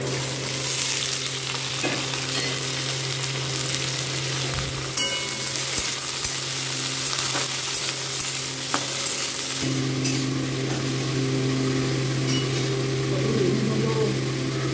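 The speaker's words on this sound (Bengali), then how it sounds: "মা বললো ভাত ভাজা করো, ওই জন্য এখন শুকনো লঙ্কা দিয়েছে আর গোটা জিরে" Leftover cooked rice fries in a pan with dried red chilli and whole cumin, giving a steady sizzle with scattered stirring clatter and a low hum underneath.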